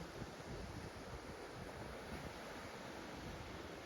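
Ocean waves and surf roll in a steady, even wash of noise that holds for the whole stretch, with no voices and no distinct breaking crests.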